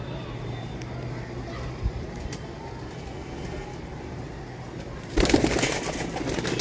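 A pigeon at a house coos softly amid steady outdoor background noise, with a brief louder burst of activity near the end and faint voices nearby.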